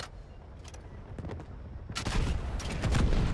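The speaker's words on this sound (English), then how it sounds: "Incoming artillery." Artillery rumbles in Delta Force: Hawk Ops, with scattered gunfire at first and then a heavy, loud barrage of overlapping blasts.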